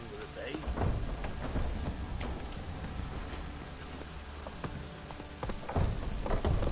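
Horse hooves clip-clop at a steady gait in the Witcher 3 game world, mixed with ambient wind and a voice talking over them.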